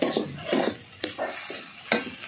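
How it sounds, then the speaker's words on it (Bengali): Poppy-seed paste with sea crab stirred in a pan: several scraping spoon-on-metal strokes in an irregular rhythm, close and moderately loud, with a few sharp clinks and no talk. "পোস্তটা একটু ভালো করে নেড়ে নিচ্ছি।"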